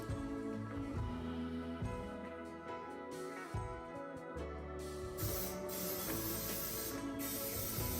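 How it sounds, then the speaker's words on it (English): Several short hissing bursts from a coconut oil spray can onto a muffin pan, close and fairly quiet, coming in quick succession with brief pauses between them. "And then I spray them down with some coconut oil."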